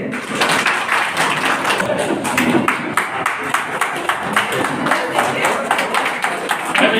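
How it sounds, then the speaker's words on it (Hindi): Loud, continuous crowd applause fills a farewell ceremony for loco pilots in Rampurhat, a dense rapid patter of many hands running steadily throughout, with a voice speaking over it. "जोरदार तालियां उनके लिए।"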